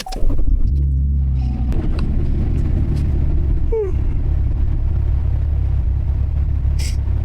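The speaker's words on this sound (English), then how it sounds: "So it's really cold, so I'm gonna turn on the car." A Chevrolet Camaro engine cranks and catches on a cold morning, then settles into a loud, steady rumbling idle heard from inside the small car.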